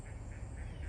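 Ducks quack on a pond outdoors, a few soft raspy calls repeating in quick rhythm over low background noise, faint and fairly close.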